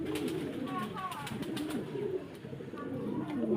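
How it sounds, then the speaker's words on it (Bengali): Pigeons at a fancy pigeon farm in Faridpur give low, repeated cooing calls that run steadily throughout, with a faint human voice in the background. "দেখেন কবুতর"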